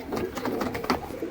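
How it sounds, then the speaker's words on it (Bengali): Pigeons, a pair of high-flying birds sold as a lot, give soft close cooing calls in short repeated bursts over a steady background. "হাই ফ্লাইং পায়রা লটের মধ্যে থাকছে আজ"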